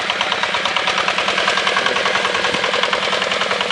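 Walk-behind tractor engine pulling a harrow in a field, revving with a loud, rapid, pulsing mid-pitched chug close by and steady throughout.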